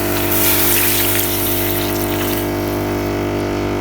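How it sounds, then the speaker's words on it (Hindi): Water runs steadily into a pan of fried eggplant, a continuous gushing pour with a bright splashing hiss that eases slightly toward the end; no talking. "अब इनके अंदर डालूंगी मैं पानी।"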